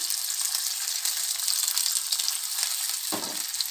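Fish 65 shallow-frying in a little oil in a pan, a continuous bright sizzle at steady loudness, with a brief stirring or splash disturbance near the end and no talk.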